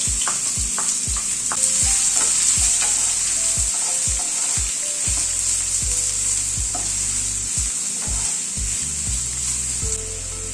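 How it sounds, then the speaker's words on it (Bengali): Finely chopped onions frying in hot mustard oil in a pan over a medium gas flame, a steady close sizzle throughout with repeated scraping stirs and light knocks of a utensil. "পেঁয়াজটা গ্যাসের ফ্লেমটাকে মিডিয়ামে রেখে পেঁয়াজটাকে হালকা করে ভেজে নেব।"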